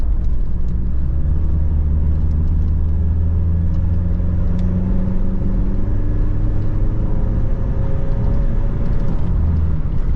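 A Mitsubishi Strada pickup with a full aftermarket exhaust runs steadily, a deep, droning low rumble with a slight rise in pitch now and then, loud and close throughout.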